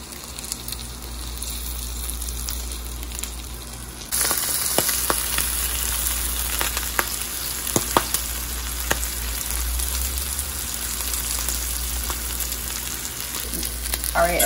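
A tuna melt sandwich with cheese fries in a pan over medium-high heat, a steady close sizzle that suddenly grows louder and denser partway through, with scattered small pops and crackles.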